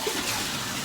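Shower water runs steadily in a home shower while dogs are being bathed, a continuous rushing hiss of spray that stays even and close, with no talking over it.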